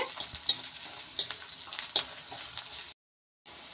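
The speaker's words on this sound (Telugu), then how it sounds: "ఇంకా బాగా ఫ్రై అవ్వాలి మంచిగా ఆనియన్స్" Onions frying in hot oil for a brinjal tadka, a steady crackling sizzle with sharp spatter pops and stirring scrapes, close and moderately loud, cutting out briefly near the end before resuming.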